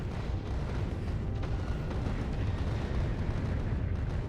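Rocket turrets on a spaceship in Factorio: Space Age fire in a dense, continuous barrage, a steady roar of rapid launches and blasts filling the whole stretch with no gaps and no talk.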